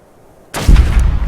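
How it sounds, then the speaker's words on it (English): A single loud gunshot in ARK: Survival of the Fittest, a sharp close crack with a booming tail after a brief quiet lead-in. "we definitely missed that shot"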